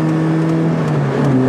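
Steady engine drone from a Volkswagen Golf 2 GTI 16V driving gently on cold tyres, a constant mid-pitched hum heard from inside the car, with no speech.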